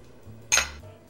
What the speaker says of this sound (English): To make your crust, you're going to combine your graham cracker crumbs, your sugar,